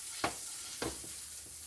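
Spam browning in a frying pan under a soft steady sizzle, with two brief scraping stirs from a spatula, close and fairly quiet.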